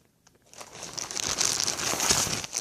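Paper documents for a new 2016 Chevrolet car being handled, a short silence followed by continuous crinkling and rustling of sheets at close range.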